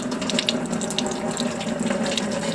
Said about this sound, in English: then you simply turn the spigot on